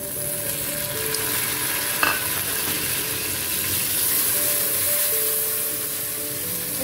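Garlic and tomato fry in a pan for aloo moongre sabzi, a dense, even sizzle close by, with one brief sharp clink from a utensil early on.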